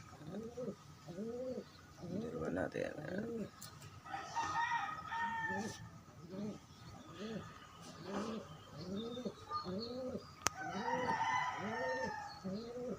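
Pigeons coo steadily at close range, repeating rolling calls in a regular rhythm over a soft outdoor background, with occasional faint voices and other birds far off.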